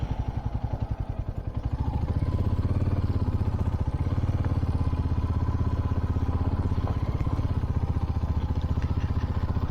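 Motorbike engine running steadily on a mountain trail toward Tungnath and Chandrashila, a loud, continuous mid-pitched throb with rapid firing pulses, close and unbroken throughout.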